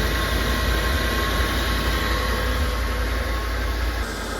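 A 1980s Rolls Royce engine idles during a brake pressure test, a steady loud droning hum with a constant whine above it, unbroken and without talk.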